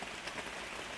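Steady rain pattering on a surface outdoors, a dense, even hiss with scattered drops, moderately loud and alone with no voices.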